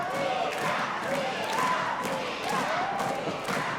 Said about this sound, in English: Listen to that cheering section for Keta Rush.